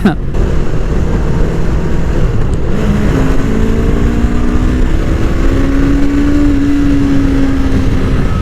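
Parallel twin motorcycle engine running while riding, a steady loud drone with rising and falling pitch as the rider shifts and accelerates, mixed with constant wind rush.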